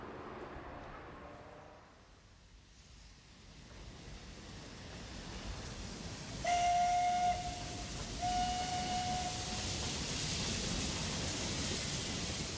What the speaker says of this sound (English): a steam train pulled into Dessau station